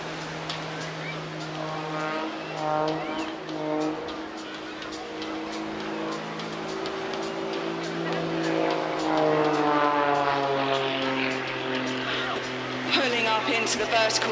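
A 6-cylinder, 8.5-litre Lycoming-powered aerobatic aircraft performs at an airshow, its engine note droning and shifting in pitch as it climbs and maneuvers, steady and moderately distant beneath a commentator's voice.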